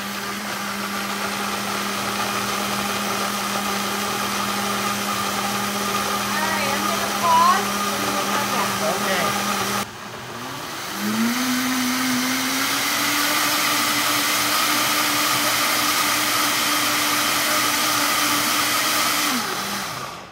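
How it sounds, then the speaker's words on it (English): A Vitamix blender runs at speed on broccoli soup, a loud steady motor whine that dips briefly, then settles into a higher, even drone for several more seconds. "Start blending. It's going to take 2 or 3 minutes."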